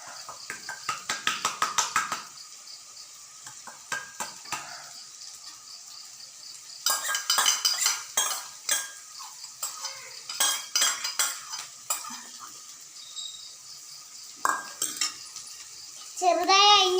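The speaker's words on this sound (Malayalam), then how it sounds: "ഇപ്പൊ ക്യാപ്സിക്കം ഇട്ടൊന്ന് ഇളക്കിയിട്ട് നമുക്കൊന്ന് മൂടി വയ്ക്കാം." Chopped capsicum stirred in a pan, with bursts of metal spoon scraping and clattering against the cookware, brief pauses between strokes and a light sizzle underneath, close and fairly loud.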